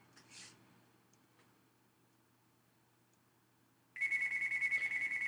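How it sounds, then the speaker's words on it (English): A telephone rings loudly with a steady electronic trill that starts abruptly partway through, following a quiet stretch of low room hum. "My telephone is ringing from some idiotic pharmacy calling"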